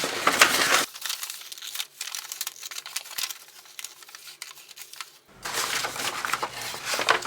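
A paper grocery bag is cut along its fold and handled, giving loud close crinkling and rustling at the start and end around a quieter stretch of faint scraping and snipping.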